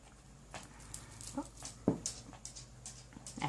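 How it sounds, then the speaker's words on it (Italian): A pet dog whimpers and yips close by indoors, a series of short, thin whines and higher squeaks spaced irregularly over a quiet room, with no talking. "Ancora il mio cane che arriva all'attacco."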